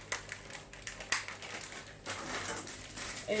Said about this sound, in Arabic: ده كيس كان فاصوليا وكوسه وجزر انا اللي عاملاه. افضيه كله افضيه كله عليها.